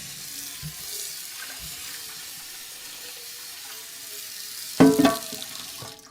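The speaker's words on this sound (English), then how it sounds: "I first rinse the pot." Cold tap water runs into a hot pot as it is rinsed after cooking rice, a soft continuous stream with faint clinks, then a louder splashing burst near the end.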